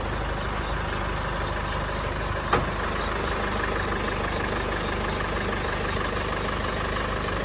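A car engine idles steadily and loudly throughout, a continuous low rumble with one brief knock partway through and no talking.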